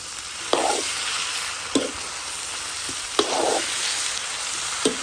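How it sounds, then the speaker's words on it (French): Food sizzles steadily in a hot pan while a utensil stirs it in several separate scraping strokes, close and alone with no voices. "Je mélange."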